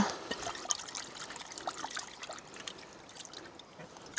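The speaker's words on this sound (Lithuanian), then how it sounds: "Сейчас только нормальной водой промою." Water runs and trickles steadily while something is rinsed under plain water, a soft, close splashing stream with small irregular spatters throughout and no talk.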